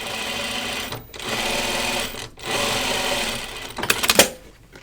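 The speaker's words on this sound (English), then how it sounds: "I think actually I'm going to understitch it" A sewing machine understitches a pocket seam on pajama bottoms, two close steady runs of fast stitching separated by brief pauses, followed by a few sharp clicks and clatters.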